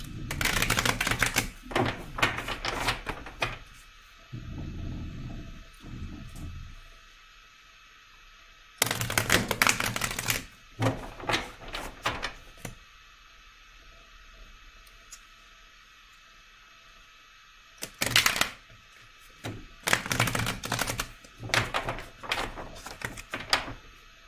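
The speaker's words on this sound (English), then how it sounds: "And let me pull a card for Rose." Tarot cards shuffled and drawn in crisp bursts of flicking and slapping, with quiet pauses between the handling, close and fairly loud.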